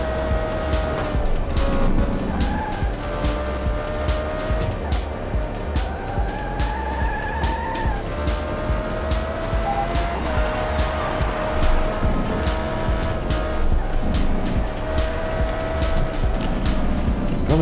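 Race car in the Dreamcast game Test Drive: Le Mans, with a continuous loud engine drone shifting pitch through gear changes and intermittent tire squeals on corners, no talking.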